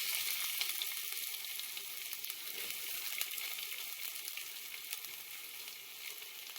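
Half an onion, cut up, fries with urad dal in hot oil for a raw banana stir-fry, giving a constant, even, close sizzle with fine crackling.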